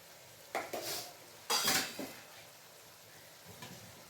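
A spoon scrapes and clinks against a pan while vangibath rice is mixed with spice powder and jaggery, with a few sharp metallic scrapes and clatters separated by quiet gaps.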